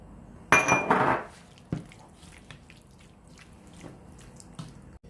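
Garlic pulp and ginger stirred together in a dish, a short burst of clinking and scraping at the start followed by a few lighter taps and knocks, close and fairly quiet.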